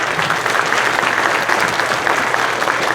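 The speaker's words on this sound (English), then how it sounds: "give yourselves a nice round of applause" A crowd at a JROTC potluck promotion claps in steady, dense applause that stays loud and unbroken throughout.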